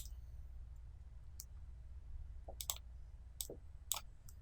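A computer mouse clicks several times at a desk, crisp close taps spaced irregularly over a faint low hum, quiet and isolated.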